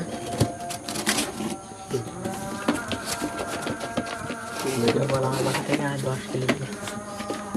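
Pigeons coo close by amid scattered clattering and fluttering, while a person talks over them.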